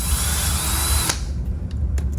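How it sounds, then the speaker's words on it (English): A power drill bores into the center of a Ferrari F430 Spider wheel cap, a loud, close whine lasting about a second before cutting off, followed by a few faint clicks and handling noises. "I'm just gonna drill right into the center."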